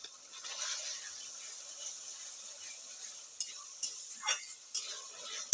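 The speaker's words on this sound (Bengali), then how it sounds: "এই দেখো মশলা কষিয়ে নিচ্ছি।" Spice masala being stirred and sautéed in a pan, with a soft continuous sizzle and a few sharper scraping taps of a utensil toward the end.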